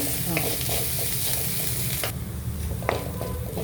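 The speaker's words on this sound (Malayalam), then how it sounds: "ഉള്ളി നന്നായിട്ട് വഴഞ്ഞിട്ടുണ്ട്, കളർ ചേഞ്ച് ആയിട്ടുണ്ട്" Onions frying and being stirred in a pan for a soya chunk potato curry, a steady close sizzle with occasional scraping stirs and small clicks of the spoon throughout, no talking.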